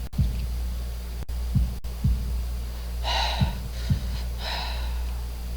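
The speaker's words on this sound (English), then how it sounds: "holding my breath in an attempt to hear my heartbeat" Heartbeat sound effect from the visual novel Katawa Shoujo: a slow run of soft, low thumps, heard close and alone, with faint breathy air in between.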